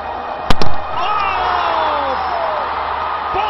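A Karachi cricket crowd roars and whoops for bowler Mohammad Amir, a loud sustained wash of cheering. A couple of sharp bangs cut through early on.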